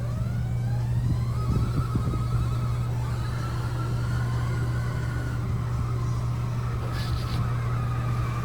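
A roller coaster launches aboard the cruise ship NCL Aqua with a steady, loud mechanical rumble and hum that rises in pitch, joined by a faint whine and occasional high squeals, with no talking.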